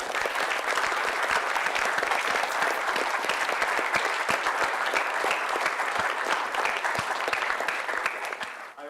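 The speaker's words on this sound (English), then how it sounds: "A round of applause for the entire team," An audience at a student team project presentation event gives sustained applause, steady overlapping claps at even strength for about nine seconds, slightly fading at the very end.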